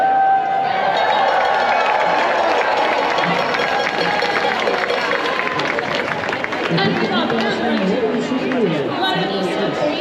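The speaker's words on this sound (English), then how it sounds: "Great rounds of applause for our pivot" Crowd at an outdoor political protest rally cheering and clapping, loud steady roar of voices and applause with chatter throughout.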